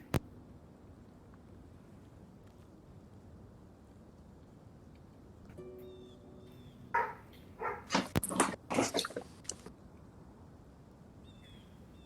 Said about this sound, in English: Are we setting off all the dogs?